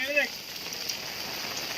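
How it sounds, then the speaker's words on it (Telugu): Heavy rain pours in a village during a fishing trip, a dense steady hiss of drops on surfaces, close and constant, with a brief voice at the start. "అని ఫుల్ వర్షం పడుతుంది, మీరు చూసినట్టు."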